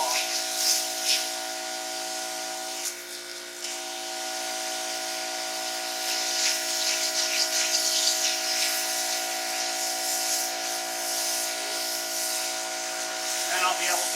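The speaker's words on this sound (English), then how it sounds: "So now I'm going to pressure wash the steps, get all the loose stuff off." Pressure washer spraying porch steps at a farmhouse, a steady loud hiss of water jet with a constant motor drone underneath, briefly dipping and resuming, running alone throughout.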